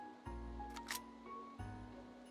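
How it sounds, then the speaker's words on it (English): A single mechanical clack from a rifle charging handle being pulled in the VR game Hot Dogs, Horseshoes & Hand Grenades, followed by a second click, quiet and close over a low hum. "Pull the charging handle on the back here."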